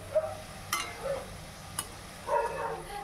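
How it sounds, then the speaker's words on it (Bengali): Cumin seeds and bay leaf frying as a tempering over a low gas flame, heard as a low sizzle broken by a few short scrapes and clinks of stirring, close by and without talk. "জিরে তেজপাতা ফোড়নটা যত টাইম না ভাজা হয় ততটা আমি একটু নেড়ে চেড়ে ফোড়নটাকে ভেজে নেব"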